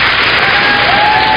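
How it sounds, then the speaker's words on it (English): Audience at an awards ceremony fills the space with a steady, dense roar of cheering and applause, continuous and loud throughout with no clear breaks. "They're cheering for people that have sex changes."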